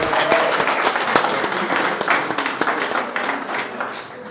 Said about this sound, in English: round of applause for Kenny, please.